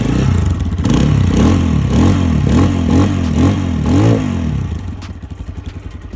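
A Lifan XTrial 200 enduro motorcycle engine runs close by with a rough, throbbing idle lifted by several short rhythmic throttle blips, then the engine drops back to a lower, uneven pulsing idle toward the end.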